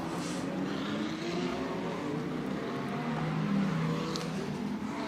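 GT race cars, Mercedes-AMG, BMW, Aston Martin and Ferrari among them, pull away at the start of a GT World Challenge race at Misano as a steady, fairly distant engine roar with a rising pitch and no talk.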